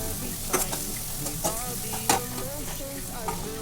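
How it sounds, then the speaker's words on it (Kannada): Tomato with chili powder fries in a pan, a steady close sizzle broken by a few stirring scrapes and clicks of a spoon against the pan. "ಇವಾಗ ನೋಡಿ, ಚೆನ್ನಾಗಿ ಫ್ರೈ ಮಾಡ್ತಾಯಿದ್ದೀನಿ."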